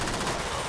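Dense, loud burst of gunfire from an armed driver in GTA 5, a continuous crackling rattle of rapid shots filling the short moment without any pause.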